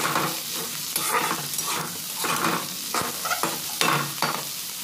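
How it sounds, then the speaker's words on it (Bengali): Sliced kakrol (spiny gourd) fries in oil in a kadai. Close, crackling sizzle surges in repeated bursts as the pieces are stirred and turned, with no voices. "তো এইভাবে আমি ভেজে নিচ্ছি"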